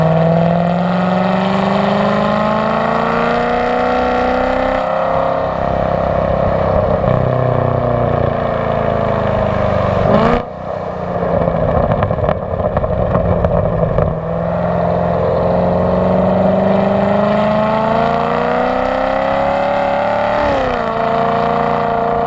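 A Corvette C7 engine with an NPP exhaust heard from inside the cabin, a steady droning hum that rises and falls gently with throttle, fairly loud and continuous, with a brief dip partway through and no talking.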